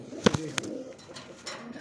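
A few soft coos from Rajgolla pigeons, including a female, close by, short throaty bursts near the start and again around the middle, over quiet background noise.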